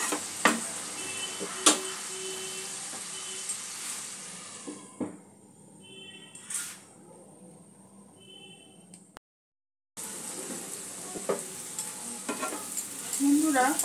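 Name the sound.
potatoes, onions and cauliflower frying in a pan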